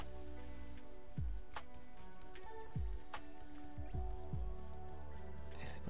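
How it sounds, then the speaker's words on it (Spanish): Soft steady rain falls on a window, with scattered close drips and patters over a constant wash of drizzle, faint and alone. "Buenas tardes de lluvia."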